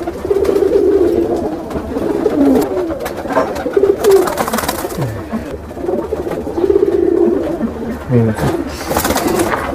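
Full white Allahabadi pigeons cooing close by in soft repeated phrases, with rustling and low background chatter from people.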